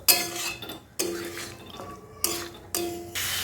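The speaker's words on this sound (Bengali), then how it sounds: "লো ফ্লেমে কিন্তু আমি চিকেনটাকে একটু ভালোভাবে কষিয়ে নেবো" Chicken pieces for rezala are stirred in a pan over a low flame, four distinct clanks of a spatula or spoon against the metal, each followed by soft scraping and sizzle, close and fairly quiet.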